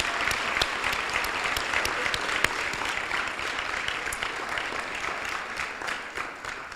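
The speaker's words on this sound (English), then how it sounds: "Let's give them all a round of applause." Steady, dense applause fills an awards ceremony hall for award recipients, a continuous wash of many hands clapping throughout with no talk over it.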